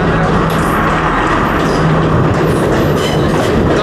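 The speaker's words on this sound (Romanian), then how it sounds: "Ajunge și trenul nostru, cu o întârziere de 10 minute." A passenger train on the Kandy to Ella line in Sri Lanka pulls into a station, a loud, steady rumble of wheels and rail clatter filling the whole stretch with no talk over it.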